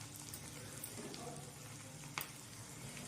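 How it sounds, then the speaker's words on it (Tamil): Chopped small shallots sauté in a pan for turkey berry tamarind curry, giving a faint steady sizzle throughout with one brief utensil tap near the end. "இப்போது வெங்காயம் சேர்த்து ஒரு 3-4 நிமிஷம் நல்லா வதங்கட்டும் வெங்காயம்."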